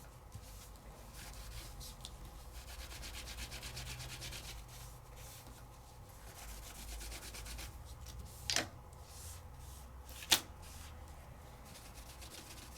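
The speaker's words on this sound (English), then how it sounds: "if I wanted to clean off my stencil, I would just use a baby wipe." A baby wipe rubs across a stencil in a soft, steady, close scraping swish that runs for several seconds, faint and alone, with two brief louder squeaks near the end.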